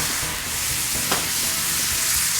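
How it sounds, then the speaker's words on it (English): White wine hitting a hot pan after frying snapper fillets gives a steady, dense sizzle with a brief sharper burst partway through, close and continuous with no talk. "deglaze the fish and the pan with some white wine"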